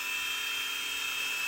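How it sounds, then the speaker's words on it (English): A Blade mCX coaxial RC helicopter hovers nearby with a steady, high-pitched electric whine from its rotors, constant and unbroken throughout, with no talking. "even though this is a coaxial helicopter"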